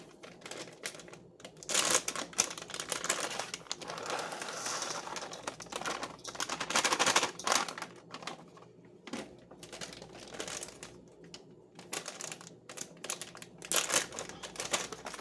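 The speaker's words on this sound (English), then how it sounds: "Now we're going to add our seeds. I've got a 16-ounce bag of sunflower seed." Raw sunflower seeds poured from a 16-ounce bag, giving close bursts of dry rattling and crinkling packaging that surge and ease in uneven waves.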